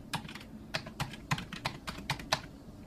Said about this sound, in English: So here I will enter my usual Windows username and password